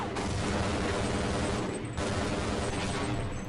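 Rapid bursts of gunfire from a first-person shooter game continue loud and steady, with a brief dip before the firing resumes.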